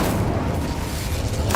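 Spell effects blasting in Hogwarts Legacy, Confringo and Incendio cast in turn, a dense rumbling boom held steadily across the moment with a brighter crackle near the end.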